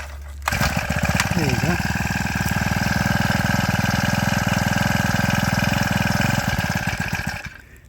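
A small petrol engine, primed and fuelled, catches on a pull-cord start and settles into a loud, steady, rapid idle chug lasting several seconds before cutting out, with a brief spoken remark as it starts.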